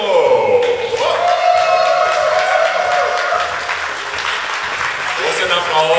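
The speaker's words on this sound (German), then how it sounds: "Großen Applaus, großen Applaus" An audience at a furry convention in a hotel applauds loudly, a thick patter of clapping hands filling the room while a voice speaks over it near the microphone.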